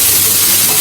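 Onions browning in a pan while being stirred, a steady close sizzle and hiss of frying with no speech.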